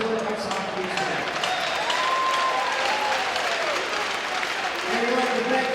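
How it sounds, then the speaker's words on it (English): Crowd in a hockey arena applauding young students honored at a Rensselaer ice hockey game, steady sustained clapping and cheering filling the rink under a faint echo, with tones from the arena sound system drifting through. "And a big round of applause for these great young kids."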